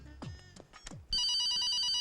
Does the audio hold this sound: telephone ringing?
yes